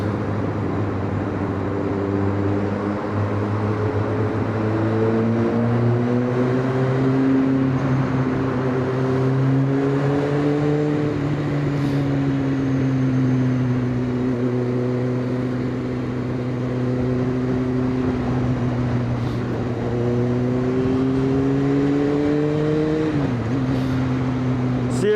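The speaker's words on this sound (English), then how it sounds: "this exhaust ain't even that loud" A Kawasaki ZX9R motorcycle exhaust drones while riding through Birmingham city streets, a steady close engine tone that rises and falls gently with the throttle, with a brief dip near the end.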